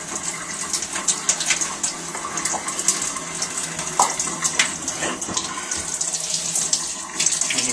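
Warm tap water runs steadily into a sink as an arm is washed with cleanser, a loud continuous splashing gush with small shifts in the flow and no talking.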